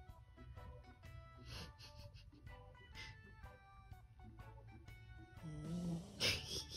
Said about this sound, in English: although she's snoring right now